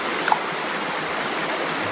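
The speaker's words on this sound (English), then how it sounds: "It's our first river crossing." A river on the Eagle Rock Loop in Arkansas rushes steadily past a hikers' crossing near the Viles Branch Trail, a close, even wash of flowing water with no break.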